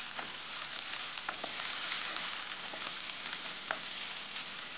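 Cut capsicum sizzling and frying as it is mixed into sautéed onion masala for a spicy mushroom masala, a steady close hiss with small crackles and occasional stirring scrapes, no talk.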